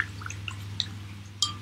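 A paintbrush dips into water while cool yellow and other paints are being mixed, giving a few faint, small wet taps and drips over a low steady hum.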